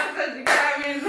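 Audience clapping bursts out at an Arabic-language gathering, loud and close, a dense patter of hands that swells after a brief softer start.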